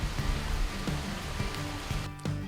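Rain falls steadily on a bear hunt by a river in the woods, a broad even hiss with a few soft taps and no voices.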